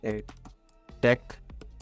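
A few light keystrokes on a computer keyboard as a search is typed, with clicks tucked between and under a man's nearby speech.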